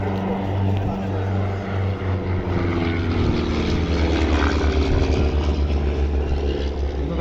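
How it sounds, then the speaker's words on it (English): A de Havilland Chipmunk flies in tight formation at an airshow, its propeller engine droning steadily and loudly throughout with a slowly shifting pitch, as a voice commentates over it. "The Chipmunk's always been a super display aeroplane."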